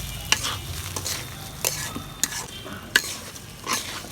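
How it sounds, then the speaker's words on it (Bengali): Potatoes, onion and rice fried with a little turmeric in a pan for bhuna khichuri, with steady close sizzling broken by repeated scraping stirs of a spatula against the pan. "এভাবে আলু পেঁয়াজ আর চালকে ভেজে নিলে তিনটা একসাথে ভাজা হয়ে গেল"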